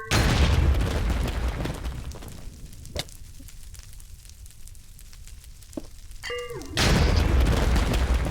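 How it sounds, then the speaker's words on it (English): Explosion in Minecraft, a deep booming blast that fills the opening seconds, drops to a quieter stretch with a few pops and clicks, then returns as a second loud roaring burst near the end, with no talk. "notice this explosion actually will not hurt me because this sand block is blocking it"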